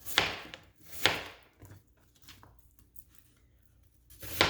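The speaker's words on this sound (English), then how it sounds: "I like to just cut this one right down into pretty large slices" A knife cuts an onion into large slices on a board, giving a few crisp, separated chops and crunches up close, with quieter cutting sounds between them.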